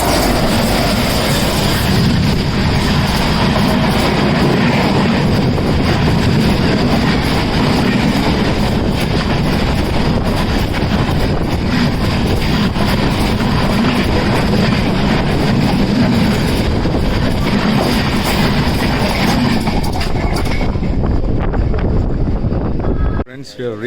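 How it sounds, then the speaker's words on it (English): A train rolls into Rajapur station in Maharashtra, its loud, sustained rumble and rattling wheels close by, mixed with buffeting wind across the microphone, before cutting off abruptly near the end. "a train is just arriving here"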